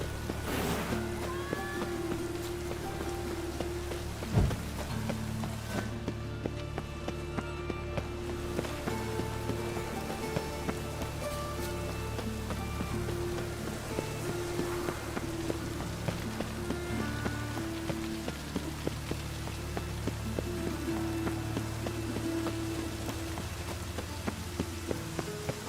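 Rain patters steadily on surfaces in the video game The Witcher 3, a soft continuous wash with scattered drip taps under low background game ambience and music-like tones.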